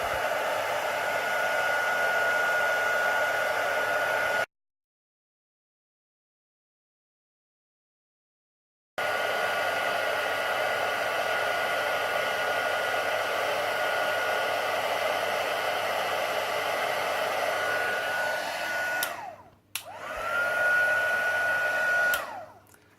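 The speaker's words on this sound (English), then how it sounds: "I always hold my heat gun still and just slowly move it across" A heat gun runs with a steady, loud airy roar while melting gold embossing powder for card crafting, cutting out completely for a few seconds, then resuming and briefly dropping again near the end.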